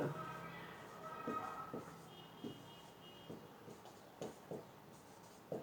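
Writing on a board during an abstract algebra lecture: a quiet series of short, irregular taps and scratchy strokes, with faint speech in the background.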